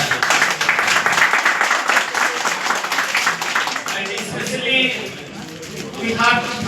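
Audience at a star agent recognition program in a Doha office applauding the country manager, loud sustained clapping that fades slightly midway, then swells again with voices over it.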